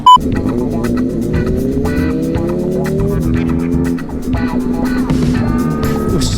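A Kawasaki ZX25R motorcycle revs hard on the road, its engine note climbing and falling in long sweeps, loud and close throughout with bursts of wind and traffic noise.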